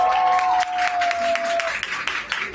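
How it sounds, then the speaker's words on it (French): A crowd at an outdoor speech event applauds in a brief burst of clapping, fairly loud and close, with a tonal whistle-like sound in the first half and a voice faintly underneath. "Applaudissez s'il vous plaît pour Ariana."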